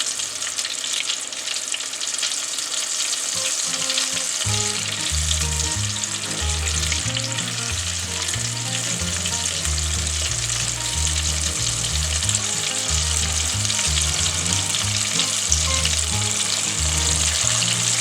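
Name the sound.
gator balls sizzling while frying in hot oil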